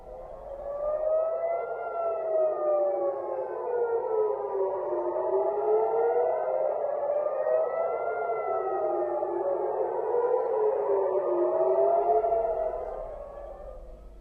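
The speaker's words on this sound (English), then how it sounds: "sirens sounded across the country, including in Jerusalem and the West Bank" Air raid sirens wailing across Israel during a missile attack from Yemen, several overlapping rising and falling tones sounding steadily and fairly distant, with no voices.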